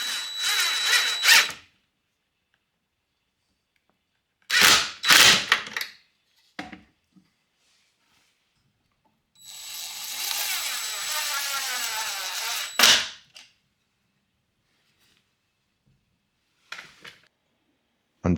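Power drill driving screws through a metal plate into the side of a DeWalt jobsite table saw, heard in several short bursts and one longer whining run of about three seconds, close and fairly loud, with quiet gaps between.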